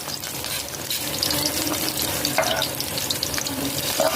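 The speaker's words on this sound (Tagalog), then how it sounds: "nilagay ko na po yung bawang at saka sibuyas" Garlic and onion sauté in hot oil for pork sinigang, a dense steady sizzle with faint stirring and scraping, close and without talk.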